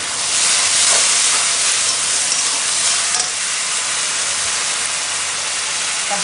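Tomato, green chilli, ginger and garlic paste sizzling loudly in a hot pan, a steady dense frying hiss that runs the whole time with slight stirring variations, no voices.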